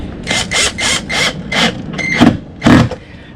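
A power driver sinking screws during a boat haulout repair, several short whirring bursts in a row followed by two louder, grinding runs up close.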